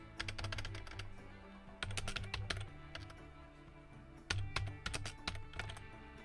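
Fingers clatter on a computer keyboard in rapid bursts with brief pauses between phrases, close and distinct over a faint background hum.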